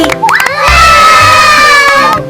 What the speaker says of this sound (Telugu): ఇదిగో మీకు చప్పట్లు అందుకోండి